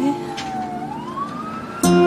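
A wailing emergency siren on an ambulance sweeps slowly upward in pitch, loud and close with no talk, ending in a sudden louder burst of steady tones.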